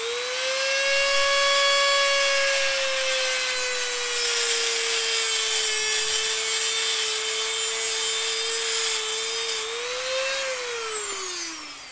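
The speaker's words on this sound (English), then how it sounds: "I find the best way is just to use a Dremel and give it a nice clean cut." A Dremel rotary tool cuts through wire in one long, continuous high-pitched whine that holds steady for about ten seconds, then rises briefly before tapering off, loud and close with no talk.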